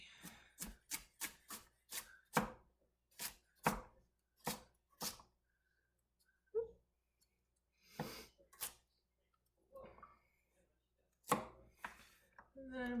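A knife chops a carrot steadily on a cutting board in quick sharp strikes, pausing briefly, then resuming in shorter bursts; close and clear with no talking.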